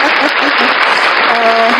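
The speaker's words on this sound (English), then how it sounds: "we've not even used our applause for a while" A short canned applause effect plays on a talk show, a steady wash of clapping lasting under two seconds while a voice speaks over part of it.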